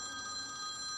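A telephone rings with a steady, continuous electronic tone, moderately loud and alone, with no voices over it.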